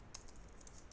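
Soft, quiet clicks of typing on a computer keyboard, a few scattered keystrokes in close succession at a distance.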